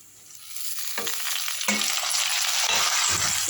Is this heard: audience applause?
no